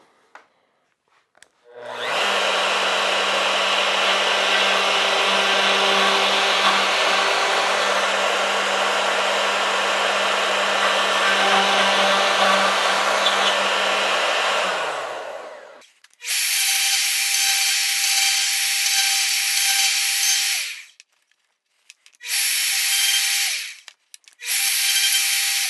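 A wood router cuts a miter slot mortise in a board on a shop-made mortising jig, a loud sustained whine for about thirteen seconds, winding down, then restarting in shorter bursts with stops between.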